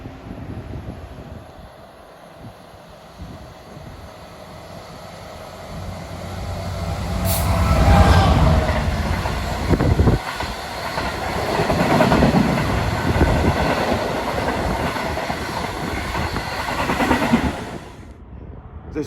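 A freight train from Wolverhampton Steel Terminal to Immingham rumbles past a rural station, the roar building then holding steady with rhythmic wheel clatter and a sharp clank, fading away at the end.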